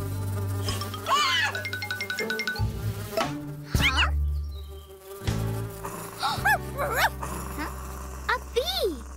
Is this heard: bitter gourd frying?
no